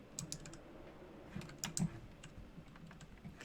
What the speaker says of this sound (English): look at the typewriter